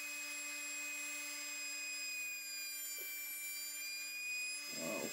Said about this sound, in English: Here I made my way to the thickness planer.